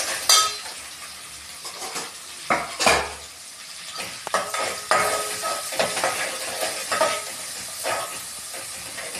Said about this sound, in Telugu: ఈ అల్లం వెల్లిగడ్డ పచ్చివాసన వరకు కొంచెం మంచిగా ఫ్రై చేసుకోవాలి.